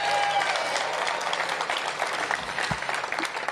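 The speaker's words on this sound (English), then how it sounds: "So give them a big round of applause" Crowd applause at a groundbreaking ceremony for the modernization of Coolidge Senior High School, a dense, even patter of clapping from a gathered audience, fairly loud and sustained, with a little talk over it.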